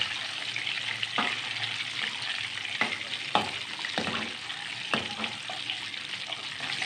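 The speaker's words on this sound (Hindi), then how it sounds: "नाज़रीन आप देख रहे हैं अंडे हमारे फ्राई हो रहे हैं।" Boiled eggs frying in hot oil for anda salan, a continuous bright sizzle with intermittent crackles and pops and occasional stirring scrapes, close and steady.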